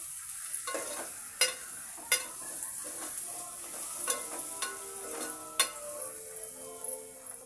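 Oil frying quietly in a pan for toor dal gojju, with a soft background sizzle broken by repeated sharp taps and scrapes of a spoon stirring against the pan.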